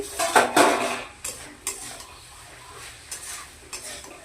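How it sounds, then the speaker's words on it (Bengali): A metal pot lid clanks loudly as it comes off a pan of cooking bottle gourd (lau) leaves, with a couple of sharp clatters early on, then lighter utensil taps and a soft sizzle over the next few seconds. "ঢাকনা খুলে আমি দেখে নিচ্ছি"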